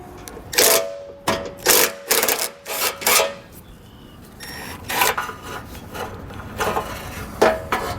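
Bolts being backed out with a 14mm socket while removing the rear bumper beam on a 2021 Subaru Outback wagon, heard as a series of short, close ratcheting and metallic scraping bursts with brief pauses between them.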